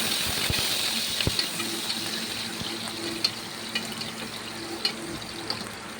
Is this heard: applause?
no